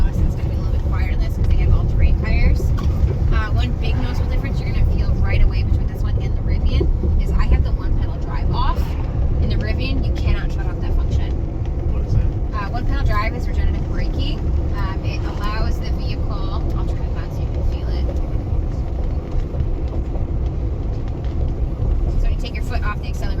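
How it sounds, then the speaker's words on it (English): Road and all-terrain tire noise inside a new electric GMC Hummer while driving with windows closed, a steady low rumble and hum filling the cabin throughout, with a voice talking over it. "Even with the windows closed, radio off, it's still a good amount of noise that you're getting from the tires."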